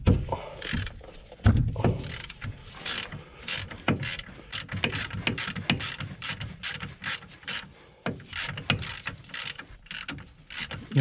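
A bolt on a Citroën Berlingo 2.0 HDI is wrenched out during clutch work, with a rapid run of ratchet clicks and metallic clatter repeating in short bursts throughout.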